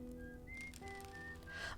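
A character whistles a simple tune in the video game Outer Wilds, clear sustained notes stepping up and down in a short melodic phrase, fairly quiet and alone.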